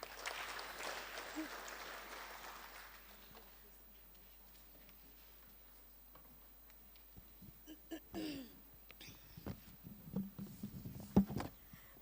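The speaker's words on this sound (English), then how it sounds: "Clap for her, please." An audience at a members' annual general meeting claps briefly at first, a soft patter that fades within about three seconds, followed by quiet room noise, shuffling, a throat clear and scattered knocks near the end.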